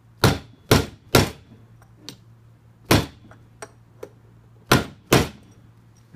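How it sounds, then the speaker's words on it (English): Several thudding mallet blows, some in quick pairs and others spaced apart, knock a part into place on a 6V ride-on toy Hummer, with faint lighter taps between them over a low hum. "grab your mallet and just apply some force with the hammer"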